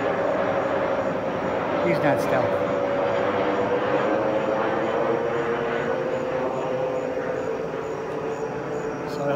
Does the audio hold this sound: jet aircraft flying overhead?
yes